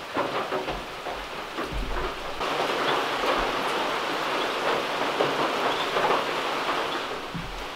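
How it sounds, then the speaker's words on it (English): Steady rain falls outside a bushcraft camp in the woods, a dense continuous hiss with no voices heard. "it's raining outside and I can't take the DSLR out there"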